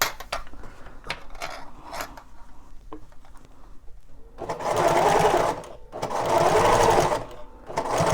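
Sewing machine stitching fabric for a craft project, running in two loud, steady whirring bursts of about a second and a half each, after a quieter stretch of light clicks and handling.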